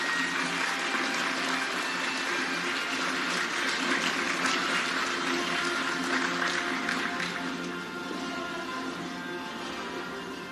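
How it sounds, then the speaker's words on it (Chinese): Sustained audience applause fills a briefing hall, welcoming Hong Kong Chief Executive candidate John Lee at his policy platform presentation; dense, even clapping that thins slightly near the end. "现在主持人邀请现场嘉宾掌声欢迎李家超候选人来为我们做简介"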